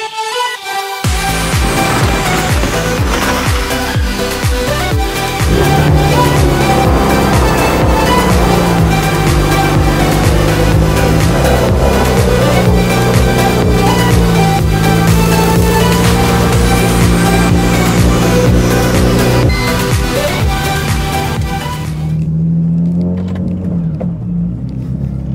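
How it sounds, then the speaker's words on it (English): A BMW Z4 with the N54 engine on a test drive around the block, engine note rising and falling through repeated gear changes, loud and close, then cutting off near the end with no talk. "let's take her for a quick test drive and just see how she performs"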